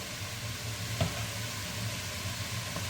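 Onion pieces sizzling in a pan with oil and margarine, an even crackling hiss throughout with one small knock of contact early on.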